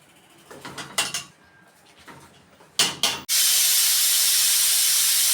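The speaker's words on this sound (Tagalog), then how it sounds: "ililipat ko sa pressure cooker para mabilis lumambot" A pressure cooker, used to soften meat, vents steam: a few sharp clanks and short bursts of hiss, then a loud continuous rushing hiss that holds steady close by, with no talking.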